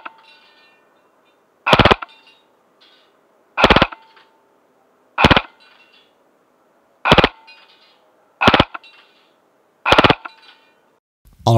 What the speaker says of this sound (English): Now I'm going to shoot it in full auto.